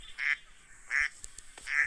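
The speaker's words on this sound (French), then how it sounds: "Un canard, ça va dans l'eau aussi." A duck quacks three times in even succession, each call clear and fairly close against a quiet background.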